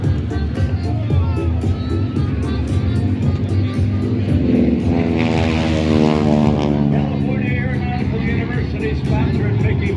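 A 1930s-40s propeller warplane flies past at the Salinas International Airshow, its engine drone swelling into a rising, wavering tone mid-pass before easing off over steady background noise.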